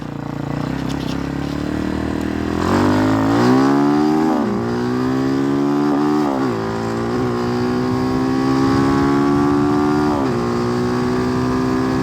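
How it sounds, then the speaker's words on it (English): A Hawk 250 motorcycle with a swapped Loncin RE250 engine revs up through first and second gear toward redline, each gear a rising engine whine that drops sharply at the shift before climbing again, close and steady. "It comes right up to red line, first and second gear."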